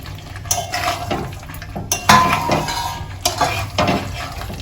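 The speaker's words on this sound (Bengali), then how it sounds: "এবার আমি এর মধ্যে আলু আর ফুলকপিগুলো একসাথে সব দিয়ে দেবো দিয়ে ভালো করে এর সাথে আবার মিশিয়ে নেবো" Potatoes and cauliflower dropped into a pan of spiced oil and stirred, with loud clattering scrapes and knocks of a utensil against the pan and a soft sizzle underneath, close up.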